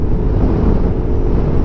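A steady, loud engine drone with a low rumble, running continuously without a break.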